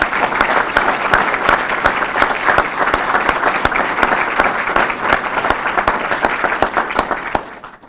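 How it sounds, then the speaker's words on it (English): Loud, sustained clapping from an audience at a professorship and recognition celebration, a dense continuous roar of many hands with sharp individual claps standing out, holding steady before dropping off at the close. "Please a large round of applause for these people."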